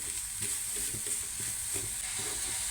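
Jaggery and grated coconut sauté in a pan, giving a steady close sizzle broken by regular scraping strokes of a spoon, with no voices.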